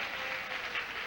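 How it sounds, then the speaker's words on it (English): Studio audience applause on the 1975 Match Game television show, a brief, steady wash of clapping at low level with no voices. "How about an applause for that,"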